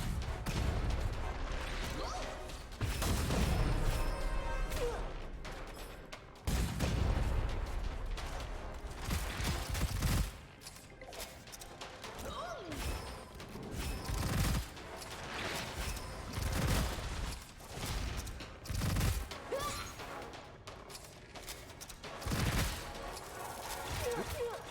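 Rocket launcher blasts and explosions in the shooter game Gunfire Reborn, loud repeated booming bursts spread throughout with crashing impacts, mixed with game noise and occasional talk.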